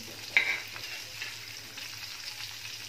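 Bagha fish fry slowly in a pan over a low flame, giving a soft, continuous sizzle with a sharper crackle near the start and faint scattered pops afterward.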